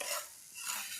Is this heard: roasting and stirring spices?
yes